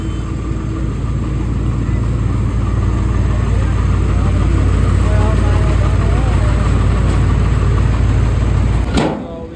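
A tractor engine idling loud and close, a steady low rumble holding for several seconds before cutting off near the end, with people talking over it.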